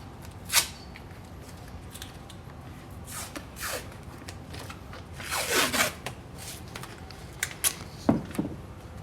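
Painter's tape torn from the roll and pressed onto a car emblem before plasti-dipping: scattered sharp ripping and crinkling bursts, one longer tearing stretch in the middle, close and fairly quiet with pauses between.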